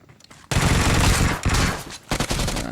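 Dense, loud automatic gunfire from the mobile battle royale game PUBG Mobile, a sustained close burst that breaks off briefly and then resumes with further rapid shots.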